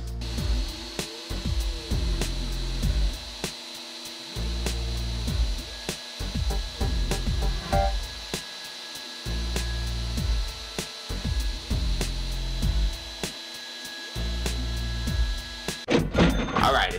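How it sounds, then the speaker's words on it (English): A Sienci Labs Mill One V2 CNC router carves letters, its spindle whining steadily through repeated bursts of cutting that stop and start in a loose rhythm, loud and close with no talk. "Let's give them a cut, see how they turn out."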